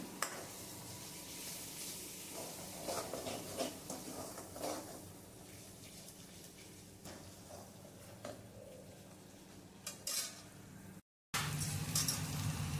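Onion paste sautéing in a pan for a spicy shipi amti, a soft continuous sizzle with intermittent stirring scrapes and small clicks, fairly quiet and close, ending in a brief gap before louder noise.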